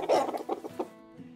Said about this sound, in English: Here, have some chicken sounds.